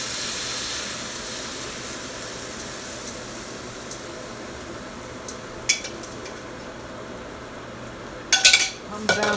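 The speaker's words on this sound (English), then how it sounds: "I like to keep my eggs moving because I don't want them to get burnt and stick to the bottom" Eggs cook in a frying pan under a quiet, steady sizzle, with occasional utensil clinks and scrapes against the pan, a louder cluster of clatter near the end.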